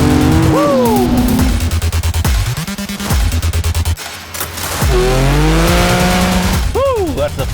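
A car's tires squeal loudly and repeatedly in sweeping whines under a roaring, revving engine, with excited shouting mixed in.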